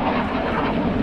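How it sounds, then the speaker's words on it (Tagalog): Jet planes flying over near a base beside sugarcane and cassava fields, a continuous loud roar with broad rumble and no voices in the brief stretch. "Mga jet plane yan eh."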